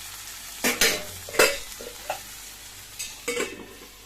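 Tomatoes cooking in a pan for a hotel-style puri side dish, with soft sizzling broken by several sharp stirring and scraping bursts from a utensil, close and moderately loud, no voices.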